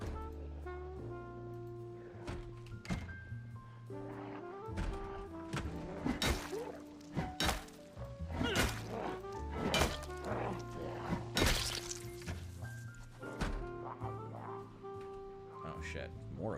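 Pipe wrench strikes from a video game, a series of sharp whacks and thuds landing at an irregular pace over game music and ambience.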